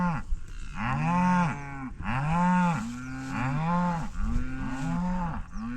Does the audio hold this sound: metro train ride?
no